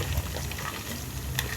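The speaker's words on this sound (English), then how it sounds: "So once this starts boiling like this, once this ghee separates, now the ghee is ready." Butter simmering down into ghee in a pan for a Tamil home recipe, giving a steady close bubbling sizzle with crackling pops throughout, no voices over it.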